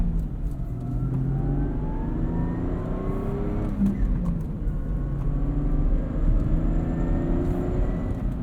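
A 2003 Lexus IS 300 with a naturally aspirated 2JZ six and five-speed manual, heard from inside while driving, its engine note rising and falling steadily with revs over road and tyre rumble.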